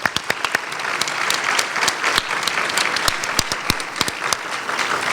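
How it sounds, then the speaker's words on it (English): A crowd at a college gala claps steadily in a warm round of applause, with sharp individual claps standing out from the dense patter. "We should give them a round of applause to start off with."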